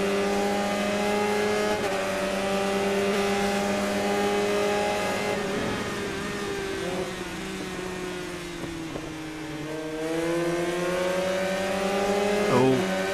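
Kawasaki sports motorcycles race in the RIDE 3 video game, engines droning loud and high, with rising and falling revs as gears shift and another bike closes in alongside.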